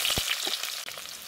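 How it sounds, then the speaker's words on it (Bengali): Chopped onion sizzles in a generous pour of hot white oil in a wok, a dense, continuous hiss with a few soft pops and clicks. "এই তেলে এখন দিয়ে দিচ্ছি পেঁয়াজ কুচি"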